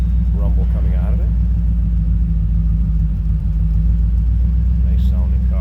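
A 1987 Chevrolet Camaro IROC-Z with a 5.7 TPI V8 and MagnaFlow catback exhaust idles with a loud, deep, steady rumble close by, and a voice briefly talks over it.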